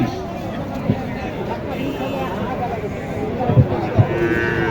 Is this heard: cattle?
yes